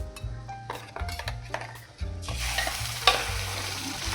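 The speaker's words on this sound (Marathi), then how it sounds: "मसाला परतून घेऊ।" Prawn masala paste being sautéed in a pan, with a sizzling hiss that swells midway, mixed with spatula scrapes and a sharp metallic clink against the pan over soft background music.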